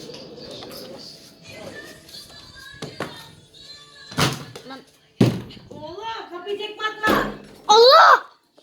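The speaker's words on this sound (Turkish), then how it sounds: "Kapı kapandı." A door slams shut indoors with a sharp, loud bang near the end, amid someone talking and scattered background sounds.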